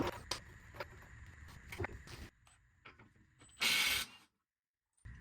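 An 18mm ratchet loosening the lower rear shock mounting bolt on an E36/E46 BMW suspension, with rapid clicking pawl bursts and metallic tool handling, then a short loud whirring burst and silence, close up.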